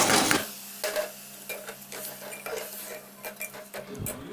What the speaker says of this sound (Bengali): অল্প নাড়াচাড়া করে চাল ডালগুলো আমি এর মধ্যে এবার দিয়ে দিলাম